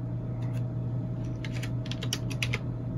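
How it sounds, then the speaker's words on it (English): Someone keys a four-digit bank PIN on a keypad at a Japanese bank or ATM terminal: a few light, scattered clicks over a steady electrical hum, close and fairly quiet. "Then you're going to type in your PIN code for your bank account."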